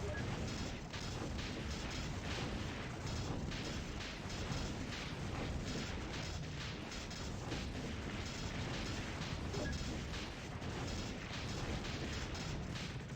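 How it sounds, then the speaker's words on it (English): Battle noise from the Extreme Tactics strategy game: a continuous dense roar of blasts and booming fire, steady and loud across the whole stretch with no clear pauses or separate hits. "We get a big explosion too."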